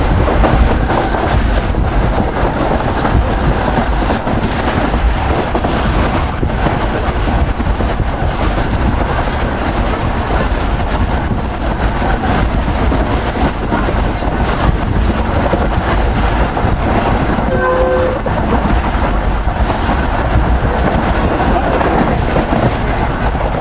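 The Pak Business Express, hauled by locomotive 9053, rumbles steadily along the line with continuous low wheel and carriage noise and wind buffeting, heard from onboard, with a brief faint tone midway.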